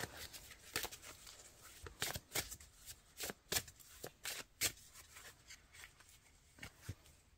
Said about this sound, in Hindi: लास्ट कार्ड निकालेंगे